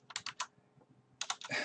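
Quick bursts of keystrokes on a computer keyboard, two short clusters of crisp clicks separated by a brief pause, close and fairly quiet.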